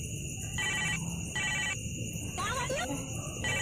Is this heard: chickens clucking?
no